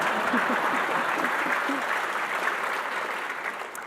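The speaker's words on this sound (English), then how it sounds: "That's a good thing to clap for" Audience applause at a political speech at the Reagan Presidential Library, a dense steady round of clapping from a large crowd that holds for the full span and tapers slightly toward the end, with a few faint voices underneath.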